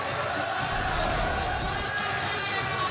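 Arena basketball crowd favoring Duke roars steadily during a game, a broad constant wash of cheering and chatter with a commentator's voice audible over it.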